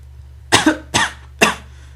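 Three sharp coughs in quick succession, close and fairly loud, over a steady low hum, in an engine shed filled with ash and steam from hissing safety valves.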